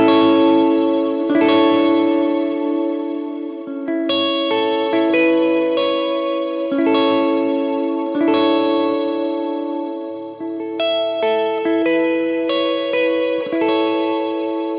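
An electric guitar played through reverb and chorus-style effects for a worship tone rings out in sustained chords and picked notes, with a washy ambient tail blending each phrase into the next, loud and close with no talking.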